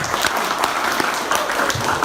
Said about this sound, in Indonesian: boleh diberikan tepuk tangan dulu